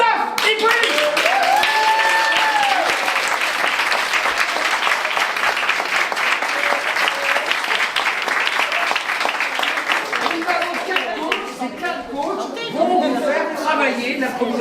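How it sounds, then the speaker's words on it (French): An audience at a talk on theatrical improvisation claps in a sustained, full round of applause, with voices heard over the clapping as it tapers off near the end. "merci de l'applaudir, Christophe Hippolyte."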